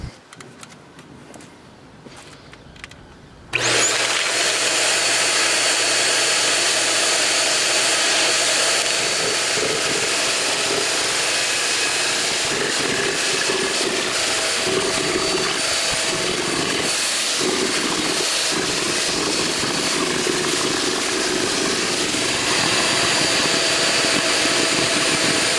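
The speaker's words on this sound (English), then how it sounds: "we're gonna cool the vacuum off by sucking up some paint." Shark Rotator vacuum cleaner, already damaged by fire, sucking up paint: a loud, steady high-pitched motor roar that switches on abruptly after a few quiet seconds and runs on continuously.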